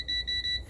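Louder electronic beep from a Gourmia air fryer, a steady high-pitched tone pulsing in three quick repeats, clear and close with no talk.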